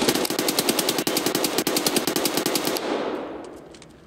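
A tank's rapid automatic gunfire in Escape From Tarkov, delivering a fast, even burst of loud, closely spaced shots for nearly three seconds before breaking off into a fading echo.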